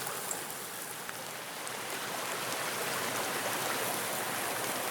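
Rain falling steadily on a backpacking grill outdoors, a dense even hiss of drops that holds without break, close and fairly loud, with no talk.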